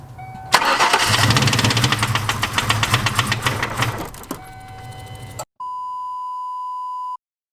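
A car engine fitted with a Typhoon manifold and nitrous jets turns over and roars into a loud, rough idle for several seconds, then cuts off, followed by a steady electronic beep tone.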